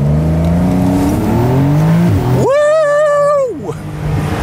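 A Porsche 911 Cabriolet of the 992 generation with a 3.7-litre engine accelerating hard, loud and close, its revs climbing steeply through a gear before dropping back, over heavy road and wind noise.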